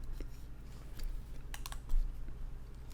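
Keystrokes on a computer keyboard, typed by a teacher during a high-school physics lesson, come in scattered bursts of sharp clicks, fairly close and moderately loud over a low steady hum, with no talking.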